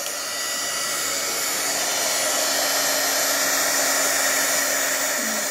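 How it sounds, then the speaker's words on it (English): An embossing heat gun blows steadily and loudly at close range, heating embossing powder on a card in an even continuous roar with no talking. "Now getting my heat gun and using the end of my paintbrush there, just holding down the card and applying the heat to the embossed image."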